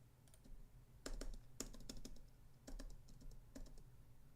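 A computer keyboard gets a series of quick, clustered keystrokes and clicks, close to the microphone and fairly faint, with short pauses between bursts of pressing.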